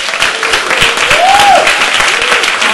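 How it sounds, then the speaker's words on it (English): A theater audience bursts into steady, loud applause as a comedian is introduced at an evening comedy and monologue event, with dense clapping filling the room and a brief whistle-like tone rising partway through. "Ladies and gentlemen, please, round of applause for Susan Kavinsky."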